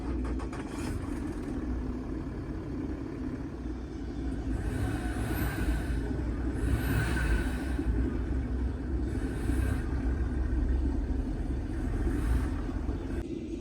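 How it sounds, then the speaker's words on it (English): A Range Rover Sport's 3-liter V6 turbo diesel engine runs at a steady, rumbling idle, a low continuous drone with faint hiss above it, swelling slightly midway, with no talking. "I love the sound of the turbo that comes from it when it's turned on."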